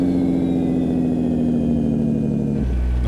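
Jake brake set to medium on a simulated truck in American Truck Simulator, a loud continuous buzzing engine-brake drone that holds for several seconds, then drops into a lower rumble near the end, with no voices.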